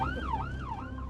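A person vocally imitating an ambulance siren during an ambulance crew's conversation, a quiet wailing tone that rises and falls in smooth sweeps over a low rumbling background.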